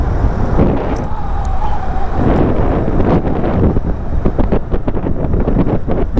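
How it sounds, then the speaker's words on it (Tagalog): Strong wind on the Binondo-Intramuros Bridge buffets the microphone with a loud, steady roar, mixed with the rumble of passing traffic and no talking. "Sarap ng hangin."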